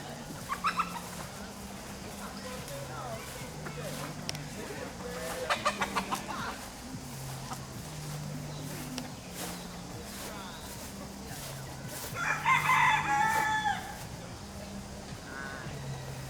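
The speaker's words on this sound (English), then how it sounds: "Is this a regular chicken? Yeah, that's a cock." A rooster and other fowl at a botanical garden in Ghana, with repeated low clucks and coos running throughout and a brief louder crow-like call near the end, heard outdoors amid faint background sound.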